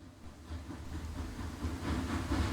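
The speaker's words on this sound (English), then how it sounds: "The train gliding in buffer to buffer, platform 6, within the main railway station." A train glides in along platform 6 of a main railway station, a steady low rumble with faint hiss that swells slightly as it draws nearer, continuous and moderately loud with no voices.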